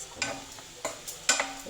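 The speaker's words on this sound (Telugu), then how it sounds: "ఇడ్లీ ముక్కలు ఇట్లా ఇట్లా ఇట్లా కట్ చేసేసుకొని వేసుకోవాలి." Idli pieces fry in a hot tempering in a pan, heard as soft sizzling with a few sharp stirring scrapes and clinks at irregular intervals, close and fairly quiet.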